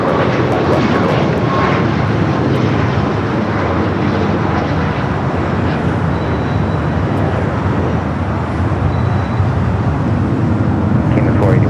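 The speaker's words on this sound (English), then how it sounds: "the 737 MAX 8. Rolling down to 25 right." A Boeing 737 MAX 8 on its takeoff roll down runway 25 right at LAX gives a loud, sustained broadband jet engine roar that stays steady throughout, with a voice talking over it.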